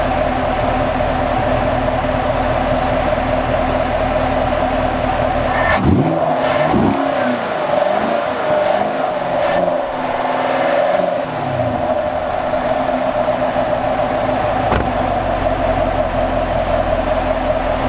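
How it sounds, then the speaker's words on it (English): A parked 2018 Chevy Camaro SS V8 idles with a steady rumble, then is revved in a few quick blips that swell and fall back. The idle carries on alone afterward. "It seems like the Camaro kind of restricts your revving while just sitting there in park like that."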